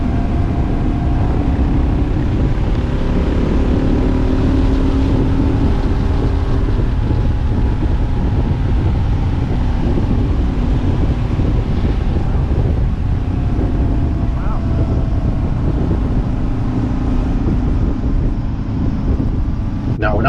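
Single-cylinder Kawasaki KLR 650 motorcycle pulling hard in top gear on a paved road in Morgan County, West Virginia, a steady loud engine drone mixed with heavy wind buffeting throughout.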